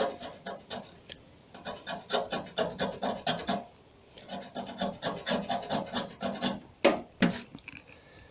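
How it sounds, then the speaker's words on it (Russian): Loose rust being scraped off a car body panel with a blade, a steady series of rough rasping strokes in quick rhythm with brief pauses, close and fairly loud, no talking. "То есть мы начинаем счищать рыхлую ржавчину."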